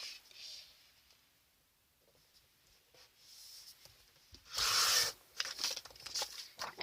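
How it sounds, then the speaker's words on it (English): Paper trimmer slicing a white border off a sheet for a faux leather notebook project, a soft scraping pass followed by a louder crisp cutting stroke and light rustling, close by, with no talk. "I'm just going to trim off this white border here"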